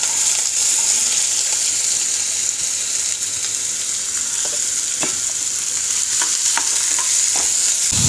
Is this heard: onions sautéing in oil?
yes